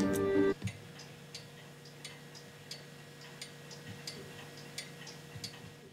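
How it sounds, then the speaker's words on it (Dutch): A clock ticks steadily and faintly, evenly spaced clicks over a low indoor hum, after a brief loud burst at the start. "Die klokken van hem klinken harder dan het darten."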